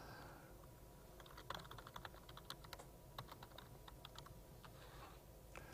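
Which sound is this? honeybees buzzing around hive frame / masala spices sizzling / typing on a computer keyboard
typing on a computer keyboard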